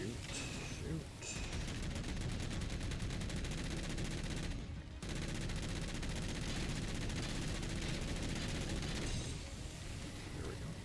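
Gunfire in the Halo video game rattles on continuously, dense and steady bursts filling nearly the whole stretch with only brief breaks, mixed with busy game effects.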